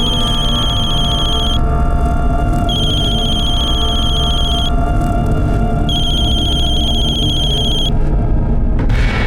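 A telephone rings unanswered indoors, repeated long electronic ring bursts separated by short pauses, loud over a steady background with no speech.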